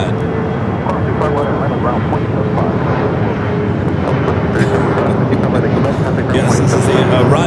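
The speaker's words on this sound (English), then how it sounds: "should have a south side takeoff coming up" An airliner takes off from the south side of Los Angeles International Airport, its loud, steady jet roar filling the scene with wind buffeting the microphone and brief clicks and clatter on top.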